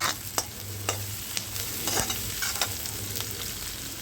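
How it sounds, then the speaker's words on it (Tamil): Onions sauté in oil with fennel seeds, a continuous close sizzle punctuated by rhythmic spoon scrapes against the pan. "அது கூட வெங்காயம் போட்டு நல்லா வதக்கிக்கோங்க."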